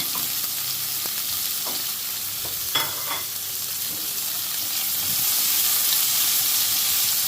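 Sliced onions fry in oil in a pan for a sardine dish, a loud, dense sizzle with a few scraping stirs and clicks, the hiss swelling toward the end.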